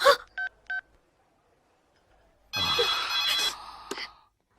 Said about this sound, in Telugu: అన్నకు ఫోన్ చేసి ఇస్తాను